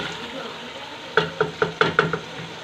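Fried cauliflower being stirred into a cooked masala in a pan, a soft sizzle under a quick run of five or six close, sharp scraping knocks of the spoon.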